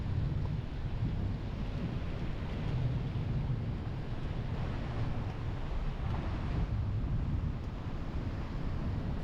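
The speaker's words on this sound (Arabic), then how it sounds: "لا زالت العاصفة الرعدية والمطر الغزير تواصل على المنطقة" Steady heavy rain roars continuously during a thunderstorm in Jazan, Saudi Arabia, with a low rumbling undertone like distant thunder, with no voices.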